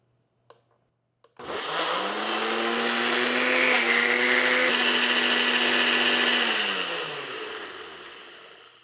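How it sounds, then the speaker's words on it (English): A kitchen blender whirs loudly as it purees peaches until smooth. The motor spins up sharply after a few quiet clicks, holds a steady high whine, then slowly winds down. "we are just gonna blend until smooth"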